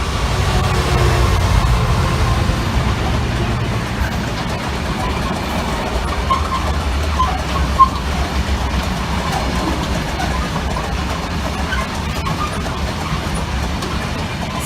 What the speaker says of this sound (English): Here's some freight train.